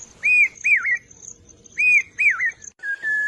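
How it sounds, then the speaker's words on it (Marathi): Clear, melodious whistled phrases from a Malabar whistling thrush, two pairs of rising-falling notes followed by a flatter whistle, heard alone against a quiet background in a deep Sahyadri valley. "सह्याद्रीच्या खोल दरीतून शिळ कस्तुराची सुरेल शिळ कानावर पडते आहे"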